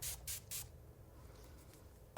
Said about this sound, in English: Let's spray the Dalbo right on top.